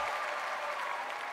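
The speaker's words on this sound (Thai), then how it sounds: "ผมขอเสียงปรบมือต้อนรับแชมป์จากซีซั่นที่5" Dense, steady audience applause fills a Thai television singing competition stage as returning singers are welcomed, loud and continuous throughout.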